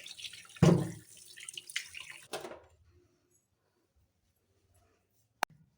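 Carrots are rinsed under a running tap, a brief splashing wash of water for about two seconds that then cuts off to near silence, ending with one sharp click.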